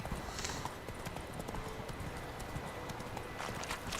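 Roach, Geralt's horse in The Witcher 3 video game, gallops with steady rhythmic hoofbeats, moderately close and continuous against a faint game ambience.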